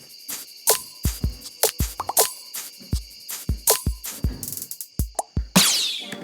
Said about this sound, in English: now I can hear the cricket signaling the nighttime and some shakers to complement